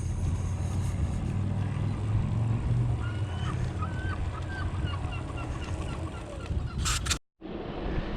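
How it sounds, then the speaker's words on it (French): Seagulls call faintly over steady wind and water noise near the beach at Saint-Nazaire, with scattered honking cries in the middle and a brief loud burst near the end. "Et les mouettes qui chantent de leur son mélodieux."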